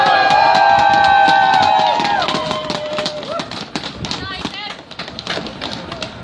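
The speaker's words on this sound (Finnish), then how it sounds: "Annetaan raikuvat aplodit meidän rohkeille nuorille naisille." A crowd at a demonstration against racism applauds with dense clapping, high whistles and cheering at first, then clapping continues more loosely.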